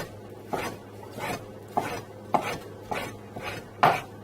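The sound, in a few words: knife dicing vegetable strips on a cutting board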